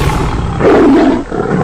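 A tiger roar sound effect: one loud, close, rough growling roar that swells and then fades over about a second, heard alone.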